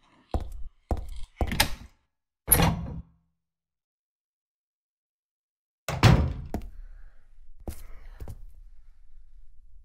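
Front door in the video game Silent Hill 3: a few sharp knocking thumps, then a heavier door opening and closing with a solid clunk and a soft rattling settle, near and clear in an otherwise quiet room.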